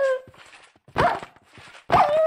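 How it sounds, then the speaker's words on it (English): A dog in Minecraft barks twice, with short sharp yips that are close and loud, separated by a brief pause and preceded by a softer whine. "Oh, doggy!"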